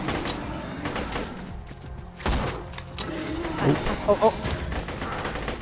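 Gunfire in the video game Borderlands 2, scattered shots and bursts at moderate volume mixed with game sounds while players talk over it.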